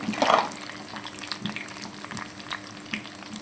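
Curry leaves crackle and fry in hot oil for wheat rava pongal, a steady close sizzle with a brief louder burst near the start.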